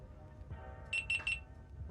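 Three short, high electronic beeps in quick succession as a GoPro Hero 12 camera powers on, fairly close, over a low background hum.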